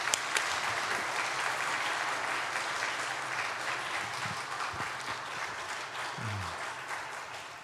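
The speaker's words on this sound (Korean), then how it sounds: "자, 우리 다 나오실 때 우리 박수로 환영하겠습니다." A church congregation applauds steadily to welcome speakers onto the stage at a spiritual retreat, sustained clapping from a crowd filling the room with a few brief voices underneath.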